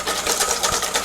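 Batter for Japanese soufflé pancakes is whisked briskly in a bowl, a continuous fast scraping rhythm that stays close and steady throughout, with no talking.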